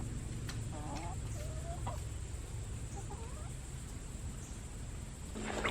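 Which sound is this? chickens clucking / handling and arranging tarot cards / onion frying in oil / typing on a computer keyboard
chickens clucking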